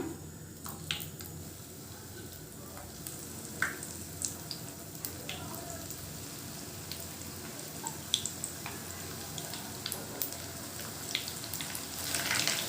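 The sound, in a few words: apple fritters frying in hot oil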